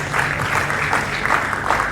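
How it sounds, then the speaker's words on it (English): An audience at a state business summit claps together in a dense, steady round of applause, close and loud throughout the short stretch. "Round of applause."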